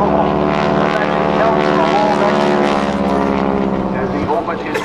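A propeller plane flying aerobatics at an airshow, a loud sustained droning engine roar, fairly close and steady throughout, with a commentator's voice over it.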